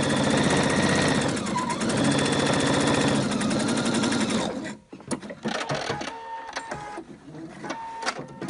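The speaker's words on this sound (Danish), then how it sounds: "Så er jeg ved at være ved vejs ende med at sy rynkerne på." A domestic sewing machine gathers ruffles onto a girl's ruffle dress at a 2.5 mm stitch, running in a loud steady rapid whir for about four seconds before stopping, followed by quieter clicks and handling of fabric.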